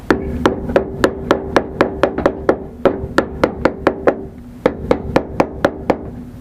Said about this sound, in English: And then you hammer this in right here just